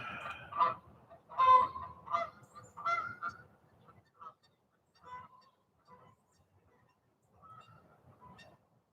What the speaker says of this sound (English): Dang geese.